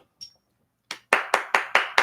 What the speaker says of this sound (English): So I'm going to applaud myself.